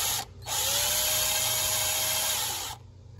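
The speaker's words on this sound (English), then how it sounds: "So we're going to drill in first." A small drill bores a side dot hole into a guitar fretboard in a single steady whir of about two seconds, close and alone.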